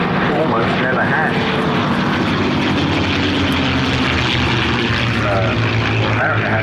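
A P-51 Mustang propeller fighter flies at the Flying Legends 2014 airshow, its engine a loud, continuous droning roar close by throughout, with a voice talking over it.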